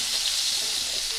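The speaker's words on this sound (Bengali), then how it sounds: "এখন লাল লাল করে আলুগুলো ভেজে নেব।" Potatoes fry in hot mustard oil in a wok, giving a steady, even, close hiss and sizzle throughout with no talk.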